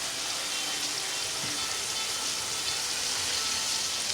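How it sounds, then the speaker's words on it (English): Pork chops fry in a pan for smothered pork chops with gravy, giving a steady, even hiss of sizzling fat that runs unbroken throughout with no talking. "We're just gonna let those fry."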